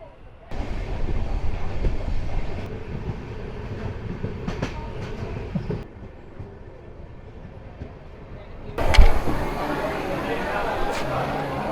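At Krishnanagar station, a train's rumble and clickety-clack wheels roll loud and close, easing to a quieter stretch before a sharp jolt and renewed noise, with voices talking over it.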